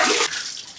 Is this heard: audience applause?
no